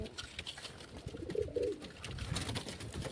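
A pigeon coos softly in a village loft, a few low burbling calls near the middle, faint against light background noise.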